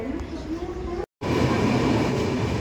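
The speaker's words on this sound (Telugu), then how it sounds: "ట్రైన్ అయితే హెవీ స్పీడ్లో వచ్చింది" A train on the Konkan Railway rushes past at high speed as a loud, continuous roar with rumbling wheels and clatter, close by, cut by a very brief drop near the middle.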